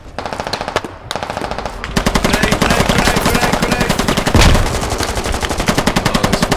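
Sustained machine gun fire in the Squad shooter game, rapid loud bursts that become near-continuous after the first couple of seconds, with a heavy thump partway through.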